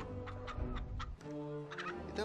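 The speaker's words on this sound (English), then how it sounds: "Congratulations, you beat us. Now here's your chicken." A chicken clucks in the Blu-ray BD-J pirate game Liar's Dice as a short burst of clear, close, fairly quiet squawking clucks.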